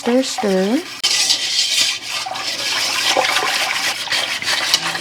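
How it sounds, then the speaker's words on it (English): Apple pie filling being stirred in a pot: close, steady wet scraping and sloshing for several seconds, with a brief higher-pitched squeal near the start. "I'm just gonna stir"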